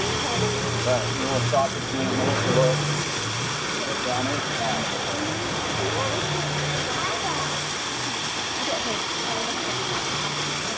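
Steady rushing water flows behind the Stanley Hotel, a constant broadband roar like a stream or small waterfall that runs unbroken throughout, with a voice talking over it now and then.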